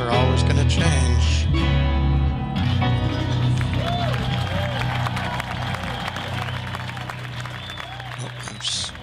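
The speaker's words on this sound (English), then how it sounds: "Oh, I'm clapping." Crowd applause and cheering at the end of a live performance, loud at first with music fading out, then a sustained wash of clapping and crowd noise with some voices mixed in.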